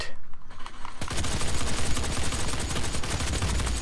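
Rapid, dense gunfire from the Doom Beta video game, a loud sustained burst of overlapping shots after a short quieter lead-in, with no talking.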